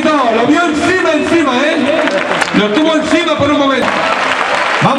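Crowd applause at a bullfight in a bullring arena at Parla, a broad wash of clapping and cheering from the stands beneath loud overlapping voices and shouting, continuous and close.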